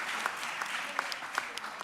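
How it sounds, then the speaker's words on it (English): Soft, distant applause from an audience at a sustainable tourism gathering, a dense wash of many hands clapping at low volume, with occasional louder claps rising briefly out of the crowd. "I think a big round of applause for Karen would be very much appreciated."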